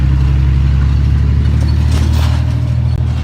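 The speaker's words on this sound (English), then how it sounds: "as this large truck goes by" A large truck rumbles past on a city street near City Hall, a loud, low engine drone with some clatter that stays close throughout.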